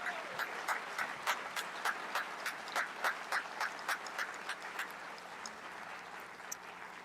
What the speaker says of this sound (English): if we could provide these honorees with another well-deserved round of applause